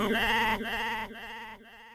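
A goat bleats loudly and close, three wavering, quivering cries running one into the next before cutting to silence.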